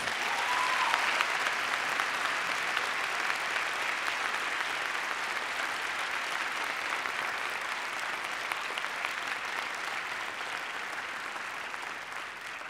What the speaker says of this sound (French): Applaudissons nos invités d'honneur.